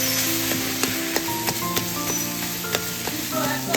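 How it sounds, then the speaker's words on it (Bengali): Fish fries in hot oil in a pan, a dense, steady sizzle punctuated by sharp taps and clinks as it is stirred, close and alone without talk. "একদম ভাজা ভাজা হবে, তেল ছাড়বে। হ্যাঁ, সুন্দর তেল ছেড়ে যাবে একদম।"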